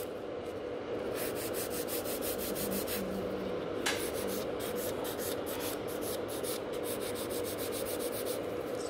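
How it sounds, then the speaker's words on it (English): A nail file works a gel nail extension into shape with quick, rhythmic rasping strokes, close and steady throughout. "so filing the same shape."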